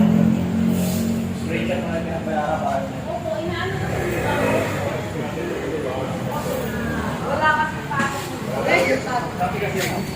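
A new Giorno motorcycle's engine idles and revs nearby, a steady mid-pitched drone with occasional rises. Several people talk over it throughout.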